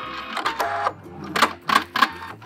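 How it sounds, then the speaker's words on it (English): A sewing machine stitches around the edge of a fabric oven mitt in several short bursts of rapid mechanical whirring, separated by brief pauses. It is close and fairly loud, with no talking. "you start sewing because we're going to be sewing all the way around"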